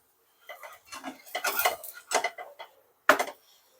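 A rajgira flour paratha cooking with ghee is flipped on a pan, heard as a series of close clatters and scrapes from a metal spatula, ending in one sharp clink before quiet.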